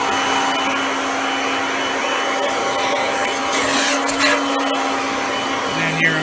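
A Kirby G6 2001 Limited Edition upright vacuum cleaner runs steadily with a loud, even motor whine and airy rush, its pitch dipping slightly near the end.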